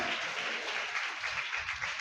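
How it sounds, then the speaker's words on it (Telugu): A worship congregation claps hands together in a dense, steady wash of applause, moderately distant and continuous for a couple of seconds. "చప్పట్లు కొడుతూ దేవస్థుతించండి"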